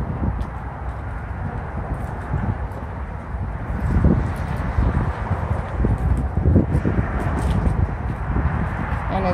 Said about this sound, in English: And it's getting a little windy out here